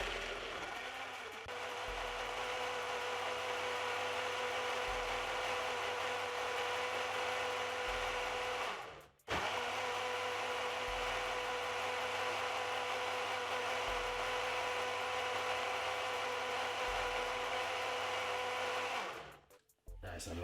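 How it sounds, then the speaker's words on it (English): Blender running steadily with cucumber, lemon and water inside, a continuous loud whirring motor hum that cuts out briefly near the middle and again at the end. "Blend for 4 minutes."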